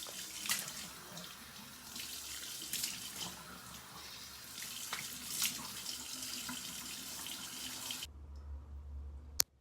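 Water runs and splashes steadily at a bathroom sink during a face wash, a dense rushing wash of sound for about eight seconds that cuts off abruptly, leaving near silence and one faint click.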